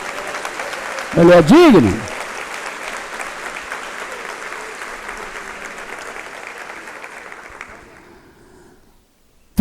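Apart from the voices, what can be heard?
congregation applause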